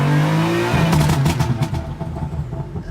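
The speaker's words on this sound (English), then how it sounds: "So start up the car." A BMW M3 F80 fires up after a spark plug change: a loud starter whir catches into an engine that flares with quick, sharp revs, then settles into a rough, throaty idle up close.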